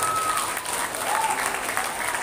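An audience at an Indonesian school gathering in Cisurupan claps steadily throughout, a dense and continuous applause with faint voices mixed in.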